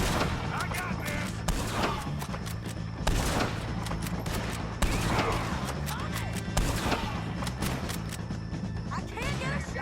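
Gunfire in Red Dead Redemption 2 during a gang shootout with O'Driscolls: dense, rapid overlapping shots and crashes in a continuous loud barrage, with shouting voices over the top.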